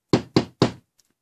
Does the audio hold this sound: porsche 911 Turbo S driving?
no